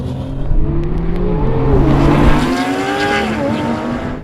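Porsche 911 GT3 and Turbo S coupe and cabriolet accelerate hard side by side in a drag race. Loud engines rise through the gears with audible shift drops, close and roaring without talk.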